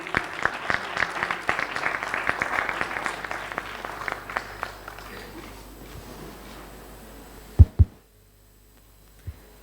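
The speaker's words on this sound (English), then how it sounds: "can we have a huge round of applause" Audience applause at a corporate conclave event, a dense crowd clapping that swells loudly and then thins and fades over several seconds, with a few louder thumps near the end.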